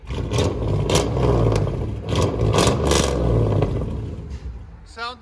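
A 2000 Chevy Tahoe with a 5.3L V8 and straight-piped true dual exhaust revs hard and loud up close in repeated surges, then settles, with a brief voice at the very end.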